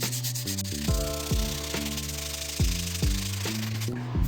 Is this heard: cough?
no